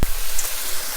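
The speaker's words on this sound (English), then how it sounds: "Look at the sizzle." Steak sizzles in a hot pan as a steady, close, broadband hiss that runs evenly through the whole second with no talking.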